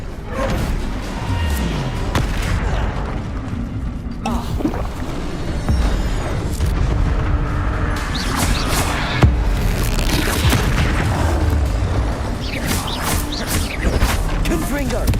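An Incendio fire spell cast during Hogwarts Legacy gameplay, with dense whooshing bursts and booming impacts repeating over a steady loud background of game sound, while a voice talks over it.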